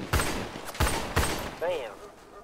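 Gunshots in a GTA roleplay shootout, three sharp loud reports spaced roughly half a second apart, followed by a brief voice-like tonal sound.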